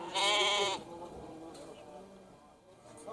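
Sheep and goats at a city livestock market in Kyzylorda, one loud close bleat at the start, then faint market murmur and distant voices.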